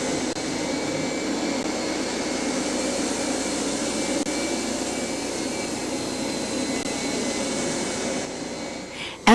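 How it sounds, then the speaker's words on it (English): A 1993 Kirby G4 upright vacuum cleaner runs steadily over carpet, a loud continuous motor whine with a broad airy roar that holds nearly unchanged for about nine seconds before a sudden click at the end. "After allowing the surface to dry completely, vacuum the dried suds residue."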